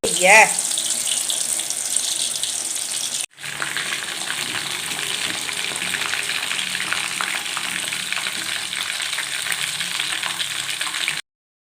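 Chicken leg pieces coated in curry masala fry in a pan with a loud, steady sizzling hiss that runs throughout, broken only by a brief cut near the three-second mark.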